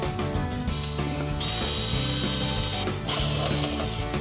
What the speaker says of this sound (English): I'm gonna drill a pilot hole just with a 1/8 inch drill bit